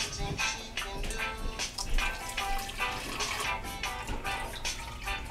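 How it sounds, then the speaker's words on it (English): Blended ginger juice is poured through a strainer, giving a soft, continuous trickling and splashing of liquid with irregular pulses, faint and close. "And then the second amount that I have in the blender, I'm just gonna go ahead and strain that out as well."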